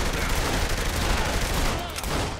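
Dense, continuous gunfire from several weapons in Saints Row: The Third, loud and close throughout with overlapping rapid shots and no pause.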